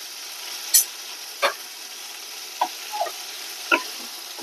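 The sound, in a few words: sautéing prawns and pointed gourd masala in a pan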